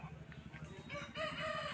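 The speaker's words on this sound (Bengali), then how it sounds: "খুবই সুন্দর মোরগ।" A rooster crows at a rural rooster market in Jhargram district, West Bengal, one drawn-out call rising over faint background chatter and crowd murmur.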